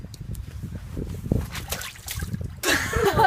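Rainwater splashing and sloshing, with scattered trickles and drips followed by a louder burst of splashing near the end; close by with some handling noise.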